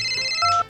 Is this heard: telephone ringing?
yes